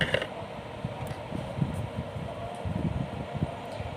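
A sewing machine stitching cloth for a small summer dress, a quiet, rapid mechanical chatter of the needle running in short rhythmic bursts with faint creaks.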